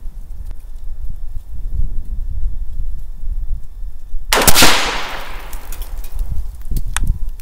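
A single rifle shot from a rifle fitted with a Ballistic Advantage premium fluted barrel at an outdoor range, one loud sharp crack with a long decaying echo across the open air, over steady wind or background noise.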